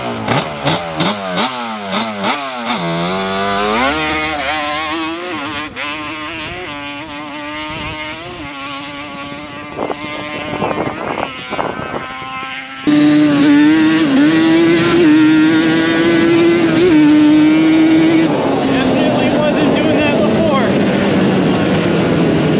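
Motorcycle fitted with a SmartCarb carburetor on test passes: close, loud engine revving up and down in repeated rising pitch sweeps, then a sustained high-revving run before easing off, with a rider speaking briefly.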